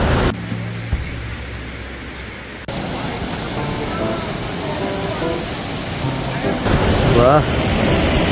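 A waterfall roars in a loud, continuous broadband rush of falling water, with wind buffeting the microphone and a faint voice briefly audible beneath the noise.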